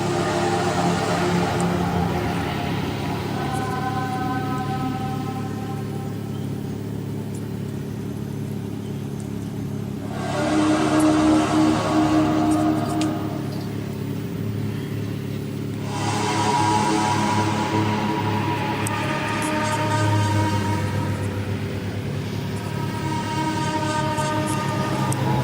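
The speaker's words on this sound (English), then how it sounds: "I think that's his car engine" A car engine recording played back sped up, giving a continuous, loud, droning mechanical hum with rising and falling tonal bands that shift in sections over about twenty-five seconds, with no talking.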